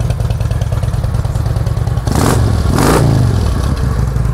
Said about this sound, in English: Got a good, strong running engine.